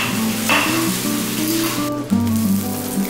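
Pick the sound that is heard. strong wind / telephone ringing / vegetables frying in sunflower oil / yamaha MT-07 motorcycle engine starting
vegetables frying in sunflower oil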